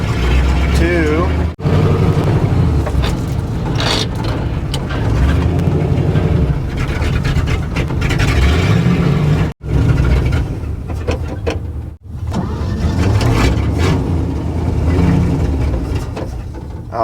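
An old Chevy mule hauler, revived after sitting parked for years in the desert, idles and runs with a steady low rumble during a short drive around a yard, with a few sharp cutouts and people talking over it.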